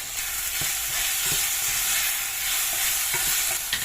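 Tomatoes fry in a pan with onion and garlic as a spoon stirs them, a constant loud sizzle broken by repeated scraping and clacking stir strokes at an uneven rhythm.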